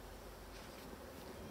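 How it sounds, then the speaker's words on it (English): Honey bees hum around an opened hive during a beekeeping inspection, a soft, steady buzzing drone that stays faint and even without any talk. "The bees seem to have calmed down a bit."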